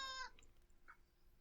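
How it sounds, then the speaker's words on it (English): A house cat gives a short meow near the start, clear and fairly close, then fades into quiet room noise with a faint chirp afterward; no talking over it. "I see we're now joined by JM's cat."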